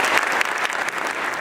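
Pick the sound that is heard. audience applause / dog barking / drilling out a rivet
audience applause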